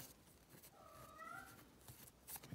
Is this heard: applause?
no